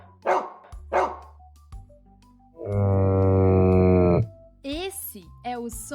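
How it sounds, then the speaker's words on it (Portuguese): A dromedary camel lets out one long, drawn-out, moaning groan at close range, with shorter bark-like animal calls just before and after it. "Esse é o som do dromedário, que só tem uma corcova."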